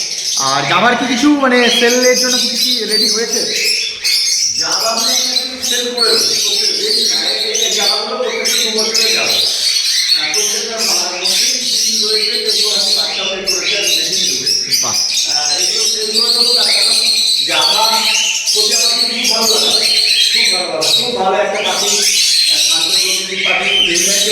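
Java sparrows chirp and twitter densely at a bird fair in Konnagar, a colony of small birds calling constantly and close by while people talk over them.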